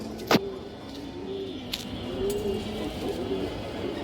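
Soft, low pigeon coos repeat in short rising-falling phrases amid steady background hum, with a sharp click near the start, from a pair of red three-barred pigeons with short thick beaks kept in a loft.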